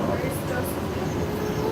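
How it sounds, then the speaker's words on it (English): Inside a Disney monorail heading to the Polynesian, a steady rumbling ride noise carries on close and loud with faint high squeals from the track. "We're on the monorail to the Polynesian."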